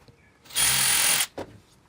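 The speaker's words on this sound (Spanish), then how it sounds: "le colocamos otro tornillo" A power drill drives a screw into a wooden bar, one sustained loud whir lasting under a second, followed by a short second burst.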